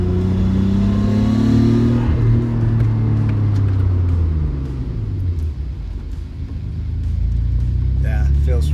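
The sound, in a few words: Nissan Skyline GTR car accelerating and braking hard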